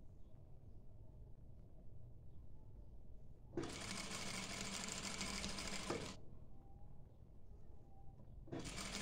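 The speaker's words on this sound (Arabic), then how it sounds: "تحطين النص على النص وتبدين تخيطين هاي الجهة" A sewing machine stitches the two halves of a dishdasha together in two loud, steady bursts of whirring, one about two and a half seconds long and another starting near the end, with quiet room hum between them.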